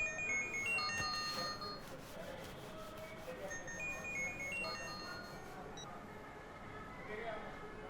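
A mobile phone rings with an incoming call in a Tamil film scene, a melodic ringtone pattern repeating at moderate volume beneath talking and background noise.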